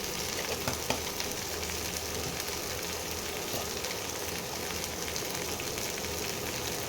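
Ground spices, coriander and cumin powder, sizzling and frying steadily in hot oil in a pan for a spicy bean curry stuffed with prawns, a continuous close crackling hiss with no talk.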